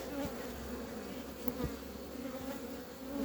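Honeybees from hive colonies in spring, near flowering horse chestnut trees, buzz in a steady continuous drone, with individual bees passing close now and then.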